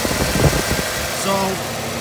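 Idling engine of a second-generation Toyota 4Runner with the condenser cooling fan and AC compressor running, a steady close mechanical hum and whir, with a brief tonal whine near the end.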